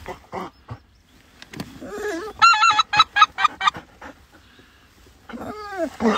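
Geese honk in a rapid burst of calls while a goose hunter lures them from a blind during a rainy autumn hunt, with scattered nearby honks, rustling and one drawn-out call near the end.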